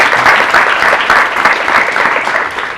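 Audience at a youth contest applauding a young contestant, a loud dense burst of clapping that stays strong and even throughout.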